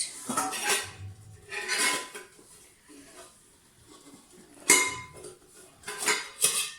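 Metal cooking pots and lids clank and clink as they are stacked together in a kitchen, in several bursts of close, ringing clatter separated by brief pauses.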